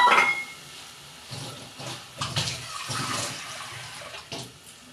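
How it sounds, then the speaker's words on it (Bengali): Water poured into a pan of frying snake gourd with turmeric: a short splashing gush, then uneven bursts of bubbling and hissing as the water hits the hot pan, close by. "আমি জল দিয়ে দিচ্ছি।"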